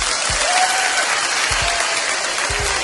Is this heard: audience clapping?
yes